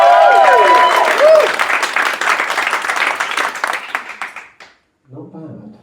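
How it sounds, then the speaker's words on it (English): A live debate audience bursts into loud applause and clapping that fades away after a few seconds, with a voice speaking briefly afterward. "Let's have a practice round of applause for the actor."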